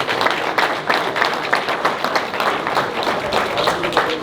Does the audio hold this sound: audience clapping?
yes